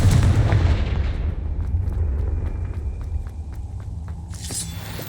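Confringo blasting spells cast in the Hogwarts Legacy video game: heavy booming impacts over a constant low rumble, with sharp cracks and footstep-like thuds. A bright burst lands near the end.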